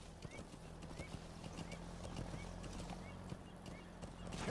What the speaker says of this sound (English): If you're holding forward, he'll start galloping.